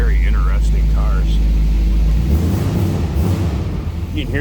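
A 1963 Studebaker Avanti R1 with its era-correct 289 V8 idles with a low, steady rumble close by, while someone talks over it.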